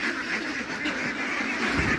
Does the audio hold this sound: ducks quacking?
yes